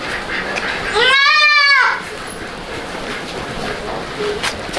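A young kid goat bleats once, a loud wavering cry of under a second standing out from a steady outdoor background hiss.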